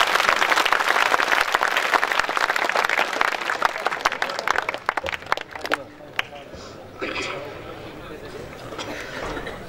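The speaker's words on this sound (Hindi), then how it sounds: "आपका दाहिना हाथ उठे, बाएं हाथ पर गिरे और एक ताली की आवाज बिखरे" Crowd at a night-time kavi sammelan poetry gathering at an educational institute breaks into loud, dense clapping that thins out and fades to sparse claps and murmuring, with a voice speaking through it.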